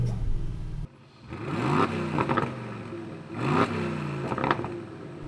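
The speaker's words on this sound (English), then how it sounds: "Oh, I bet this has a sport mode. Yes, and an adaptive exhaust." A 2021 Aston Martin DBX engine revs in sport mode with its adaptive exhaust open, rising in repeated loud, close surges after a brief low idle, with a throaty roar and a whirring buzz.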